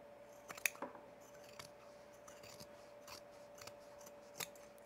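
Scissors snip and trim fabric for a sewn tool belt, a few short close cuts with soft rubbing between them and no talking.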